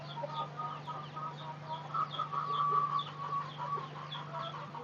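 Backyard chickens and chicks clucking at a Filipino home, soft repeated clucks and chirps close by over a steady low hum, with no talking.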